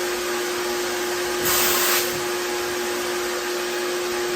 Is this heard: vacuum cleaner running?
yes